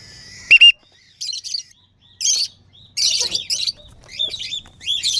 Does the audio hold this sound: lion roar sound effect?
no